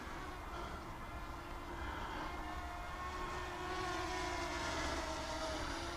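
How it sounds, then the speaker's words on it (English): A Holy Stone HS175D hobby photographic drone flying at full throttle gives a steady, continuous propeller buzz and motor whine, with its pitch drifting slightly throughout. "and we're applying full throttle"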